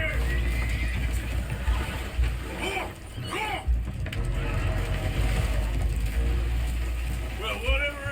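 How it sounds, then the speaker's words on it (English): Spooked horses whinny and neigh in a Red Dead Redemption 2 scene aboard a damaged boat taking on water, rising neighs heard mid-distance among creaking and splashing, with voices talking over parts of it. "Horses are spooked, and we're taking on water."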